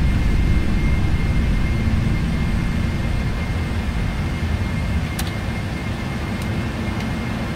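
Four jet engines of a PMDG 747-400 in the flight simulator Prepar3D roar at takeoff power, a loud, steady, broadband rumble that eases slightly over several seconds, with faint clicks near the end and no talk.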